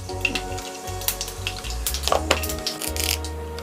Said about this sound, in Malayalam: എണ്ണ ചൂടായി കഴിഞ്ഞ് കടുക് ഇട്ട് കൊടുക്കുന്നുണ്ട്